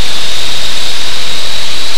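Inside a Cessna 185 just after takeoff, the engine roars as a loud, constant broadband drone with a steady high whine, filling the cabin without any talking.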